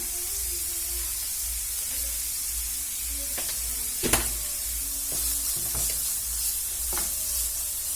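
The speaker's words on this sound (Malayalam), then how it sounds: "അപ്പൊ നമ്മൾ സവാള വഴറ്റി കഴിഞ്ഞു" Sliced onions with a pinch of salt sauté for a samosa filling, a steady close sizzle broken by scattered scraping stirs and one sharp clatter of the spoon against the pan, with no voices.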